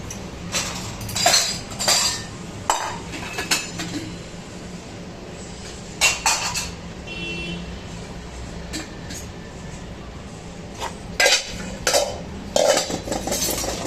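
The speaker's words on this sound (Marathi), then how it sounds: "भांडे घासले, भांडे लावून घेते" Metal cooking pots being washed and stacked at a kitchen sink, with repeated close clanks and clinks of steel against steel over running background noise.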